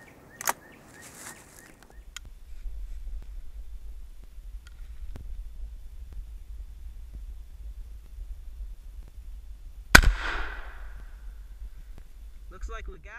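A shotgun firing a wax slug at a combination lock outdoors, one sharp loud report midway, followed by a brief ringing tail over steady wind noise.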